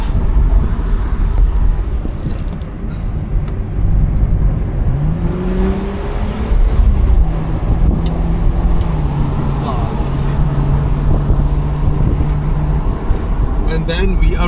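Wind rushes steadily around an open convertible driving on curvy mountain roads, a constant close buffeting blended with engine drone whose pitch rises and falls with the throttle, while a voice talks over it.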